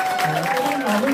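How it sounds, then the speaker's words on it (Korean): Audience applause at a Korean election campaign event for a provincial council candidate in Changnyeong, dense clapping from a crowd heard beneath a sustained tonal background, with some voices mixed in. "박수 다시 한번 부탁드리겠습니다"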